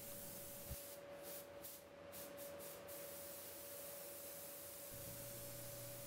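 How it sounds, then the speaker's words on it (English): Iwata LPH400 spray gun applying a light dusting effect coat of car paint, a continuous airy hiss throughout with a faint steady hum underneath, no talking. "So here is the effect coat going on, and it's basically just a dusting over everything"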